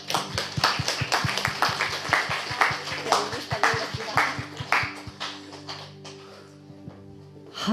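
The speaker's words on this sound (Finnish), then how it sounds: "Annetaan Jeesukselle aplodit." A church congregation claps in steady rhythmic applause for Jesus during a Helsinki Cityseurakunta worship service, loud and close with voices mixed in, then tapering off into quieter room sound.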